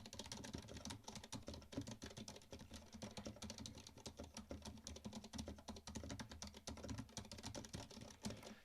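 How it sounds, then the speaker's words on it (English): Quiet, muffled keystrokes patter in a fast, steady stream on a Varmilo Maya Pro mechanical keyboard with Cherry silent switches, with soft dampened clicks and no talking. "that's what that would sound like if you're typing"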